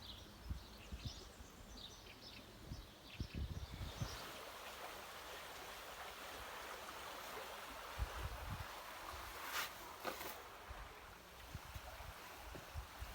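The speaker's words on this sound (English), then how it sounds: "little stream that runs through MACKENSEN" A small stream running through the German village of Mackensen produces a continuous soft rushing and gurgling of water, fairly faint and steady, with a few low bumps and wind-like swells over the flow.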